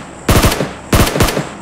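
Gunfire in the PUBG Mobile battle-royale game: two loud, rapid automatic bursts about half a second apart, the second trailing into scattered shots, with no voices over them.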